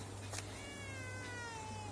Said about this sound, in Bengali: ও ম্যাও ম্যাও করুক